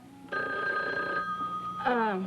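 A telephone rings in an indoor soap-opera scene, two distinct bell-like trills close by with a short pause between them, no talk over them.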